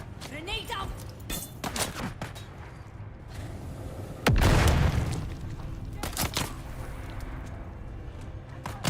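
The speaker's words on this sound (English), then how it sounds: "Grenade out." A grenade explodes in a shooter video game during a PvE challenge run, landing as one loud boom partway through amid scattered gunfire, with voice callouts around it.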